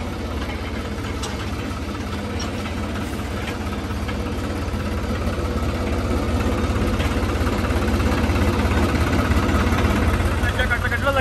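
A combine harvester engine idles steadily outdoors, a constant low rumbling drone with a vibrating texture that holds for the full length and grows slightly louder toward the end.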